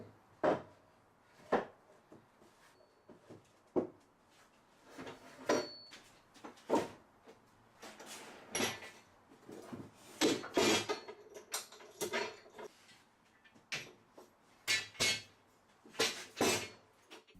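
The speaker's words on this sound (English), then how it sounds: "we can now clamp the boards together, applying some extra clamps along the top" Quiet wooden knocks, clicks and light metallic clinks come in irregular bursts as clamps are tightened across glued scaffold boards, each tap short and close with soft rubbing between them.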